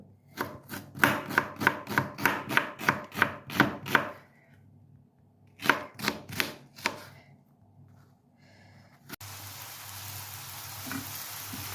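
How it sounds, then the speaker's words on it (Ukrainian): A knife chops onion on a cutting board for a quick meat pie filling, in a fast even run of about a dozen close, sharp knocks, then a pause, a few more chops, and a hiss of frying at the end. "перерізаємо всю цибулю"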